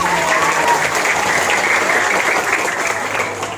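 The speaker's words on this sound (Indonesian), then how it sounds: "Berikan tepuk tangan buat kita semua" An audience of junior high school students applauds loudly and continuously at a morning school educational event, a dense steady clatter of clapping that fades slightly toward the end.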